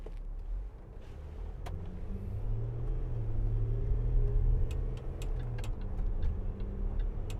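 Land Rover Discovery 4 with a 3.0 SDV6 diesel engine, heard from inside while driving: a steady low rumble that swells gently in the middle, with faint ticking clicks scattered on top.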